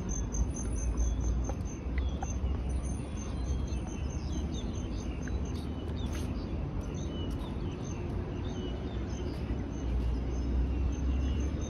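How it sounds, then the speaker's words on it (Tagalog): Small birds chirp and trill faintly and repeatedly high above a steady hum of outdoor background noise at the Hong Kong Velodrome park, with no voices present. "nakikinig ng ibon, ng huni ng ibon"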